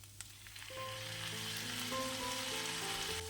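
Ripe tomatoes hit a pan of frying onions for tomato chutney, setting off a steady, loud sizzle that swells after the first second and holds, with faint tonal hums beneath.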